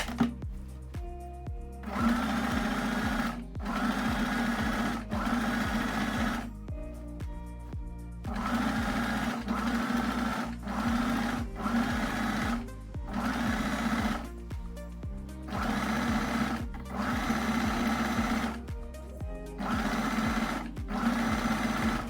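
A sewing machine stitches a dress seam in repeated bursts, each run a fast, steady mechanical whir lasting a couple of seconds, separated by short quiet pauses.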